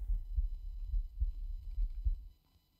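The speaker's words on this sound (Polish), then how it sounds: "Squeak, mam ciemno i słyszę bicie serca." A heartbeat in a Minecraft horror mod thumps in steady low double beats, about four pulses, loud and deep, then stops abruptly into near silence.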